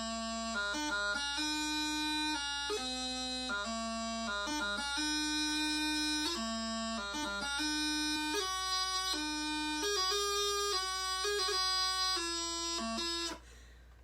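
A learner plays a march tune on bagpipe, slow and somewhat halting over a steady drone, with a clean reedy tone and uneven note changes, loud and continuous until it stops.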